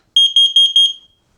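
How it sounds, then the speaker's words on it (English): X-Sense 3-in-1 carbon monoxide detector sounding its alarm during a self-test: a loud, shrill electronic beep repeated in quick pulses for about a second, then silence, with no talking. "This is only a test. The alarm will sound loudly."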